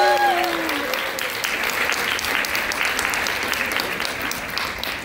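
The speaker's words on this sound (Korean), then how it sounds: "큰 박수 한번" Wedding guests at a Korean wedding break into loud, sustained applause, a thick wash of clapping from a large crowd that holds steady throughout, with a brief tonal sound at the very start.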